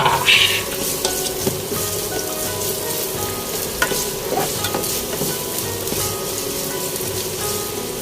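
Ginger sizzles steadily in a hot pan while being stir-fried for paklay, with occasional stirring scrapes over a continuous crackling fry, close and without talk.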